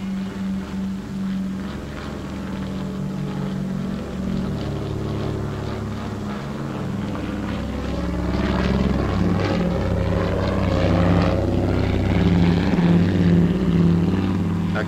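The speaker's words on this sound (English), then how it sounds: "A Catalina coming home from the day's first patrol." A Catalina flying boat returning from patrol gives a steady, loud propeller-engine drone that holds throughout and swells slightly toward the end, with no voices.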